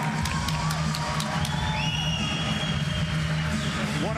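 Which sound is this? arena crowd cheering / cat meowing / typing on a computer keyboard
arena crowd cheering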